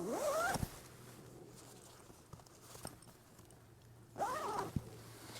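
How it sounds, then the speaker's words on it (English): The double-zipped outer door of a budget Naturehike Vik 1 tent is zipped: two quick, close rasping zipper pulls with a quiet gap of soft handling noise between them. "you can also zip it up a bit from the bottom"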